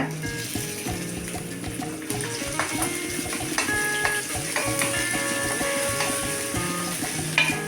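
Garlic and finely chopped onion sauté in hot oil for an egg soup, giving a continuous sizzle broken by scraping and stirring of the pan.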